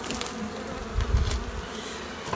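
Honey bees buzz around an opened hive of a small-scale beekeeper as empty combs are removed, a dense, continuous drone close by with a deeper swell midway.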